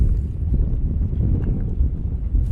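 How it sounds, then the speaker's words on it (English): Strong wind blows outdoors at a landscape spot, a steady low roar buffeting the microphone throughout with no other sounds standing out. "Wow, this wind."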